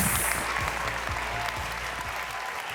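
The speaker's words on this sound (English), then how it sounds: "Give them a big round of applause." Festival audience at the Reeperbahn Festival 2023 opening show applauding steadily, a dense wash of clapping from a large crowd that carries on throughout.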